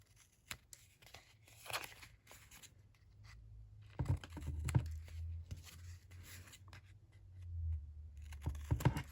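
Scissors make small angled cuts on both sides of paper hinge pieces for a 6x6 photo mini album, leaving quiet, close snips and papery rustles in scattered bursts with short gaps between.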